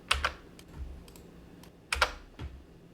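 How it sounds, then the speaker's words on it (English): Computer keyboard keys pressed on a desk, including the enter key, giving a few crisp clicks in two small clusters with softer taps between, up close in a quiet room. "you just simply hit enter on the keyboard"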